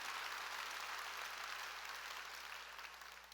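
A church congregation applauds during a sermon, a dense, steady wash of many hands clapping at a distance. It holds constant and then tapers slightly near the end, with no voices over it.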